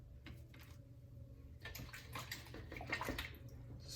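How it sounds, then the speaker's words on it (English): A paint brush being rinsed in water during a plaster printing and underglaze demonstration at a pottery studio: soft splashing and swishing that starts faintly, then grows busier and more sloshing, close by under a low background hum, with no talking. "Just rinse off this brush here."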